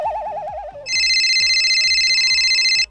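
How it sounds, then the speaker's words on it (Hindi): A telephone ringing in a home, with a warbling tone shifting to a loud, steady electronic ring that repeats in short bursts under a low rhythmic background beat. "ये तो उन्हीं का फोन आ रहा है।"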